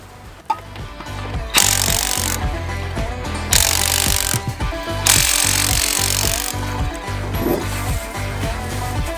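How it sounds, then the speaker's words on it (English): A power drill removes a tire from an RV, whirring loudly in several long bursts of a few seconds each, separated by short pauses and clanking, up close with no talking. "Let's get the drill."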